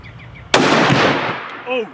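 A single sharp, loud rifle shot from a Knipe custom rifle being sighted in for a Russian brown bear hunt, booming out and decaying over about a second, with faint voices before and after.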